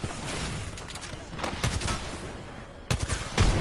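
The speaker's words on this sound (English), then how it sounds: "we're getting shot at from a bitch all the way over here" Rapid bursts of video game gunfire crack through a busy in-game soundscape, with a louder volley near the end as players come under fire from across the map.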